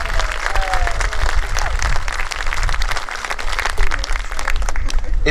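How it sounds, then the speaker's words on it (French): A crowd applauding steadily throughout at a church installation Mass, dense and sustained clapping from many hands, with faint voices mixed in. "Vous pouvez les applaudir."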